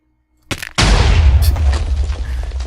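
A Minecraft man cannon goes off with a sudden loud boom after a short silence, followed by a rumbling, crackling blast that keeps roaring for a couple of seconds with no voices.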